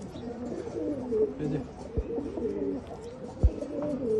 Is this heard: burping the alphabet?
no